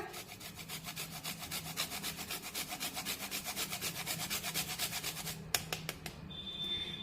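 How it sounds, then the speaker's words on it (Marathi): Whole nutmeg is grated by hand over a mix of jaggery and spices for sesame jaggery flatbread, giving quick, even, rhythmic rasping strokes close up. A few sharper scrapes and a faint tone come at the end. "थोडीशी जायफळ किसून टाकूया"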